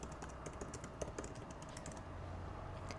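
Rapid, close keystrokes on a computer keyboard, an irregular run of light clicks over a faint steady hiss.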